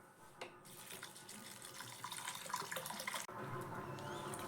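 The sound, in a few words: water poured to rinse flattened rice (chira)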